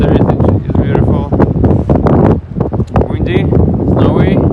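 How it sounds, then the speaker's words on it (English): Wind gusts roar steadily into the microphone in a snowy, foggy New York City park during a snowstorm, with a voice talking through the buffeting noise. "Windy, snowy, foggy, and refreshing."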